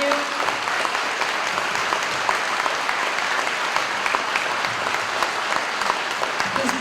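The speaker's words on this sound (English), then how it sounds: "So please, a round of applause for Jerry." An audience claps steadily at the Struble Elementary School ribbon cutting ceremony, a dense, even round of applause lasting the whole stretch without a clear break.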